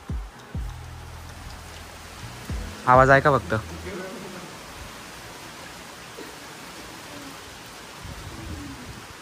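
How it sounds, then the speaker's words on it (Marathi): Rain falls in a steady, dense hiss that runs throughout, with a few clicks and a person speaking briefly near the start. "पाऊस आला हो भाऊ, पाऊस आला."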